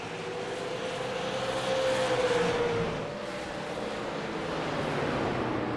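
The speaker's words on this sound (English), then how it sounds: "I love the sound of these cars. I really do. They've got a huge engine to them." Super late model stock cars roll around the New Smyrna track, their big engines a broad, steady rumble from a distance with a faint rising whine passing through midway, and no voices.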